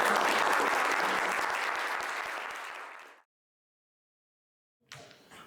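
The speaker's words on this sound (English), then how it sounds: "Okay, round of applause for him." Applause from the audience at a local community meeting, a full burst of many hands clapping that fades out to silence after about three seconds, followed by a short return of room noise.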